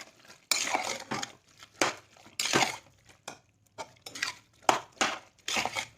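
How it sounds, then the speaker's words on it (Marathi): A spoon scrapes and knocks around a cooking pot of wheat kheer with jaggery, a steady series of about nine close, rhythmic stirring strokes with brief pauses between them. "याला परत एकदा हलवून घेऊयात"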